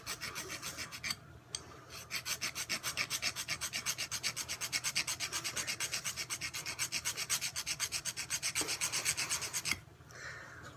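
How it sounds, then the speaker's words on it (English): A stone being worked with a hand file, giving steady, close rasping strokes in a fast even rhythm that run for most of the stretch before stopping, with no voices. "I'm going to show it from the viewing angle of me filing it"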